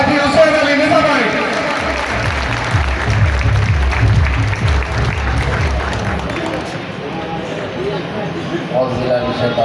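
An audience at a pigeon-flying union award ceremony claps loudly in sustained, dense applause, with a voice talking over the clapping throughout.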